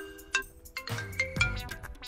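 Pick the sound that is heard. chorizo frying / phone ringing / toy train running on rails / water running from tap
phone ringing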